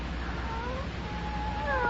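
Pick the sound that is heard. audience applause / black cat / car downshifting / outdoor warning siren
black cat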